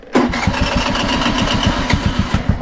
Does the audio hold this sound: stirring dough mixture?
no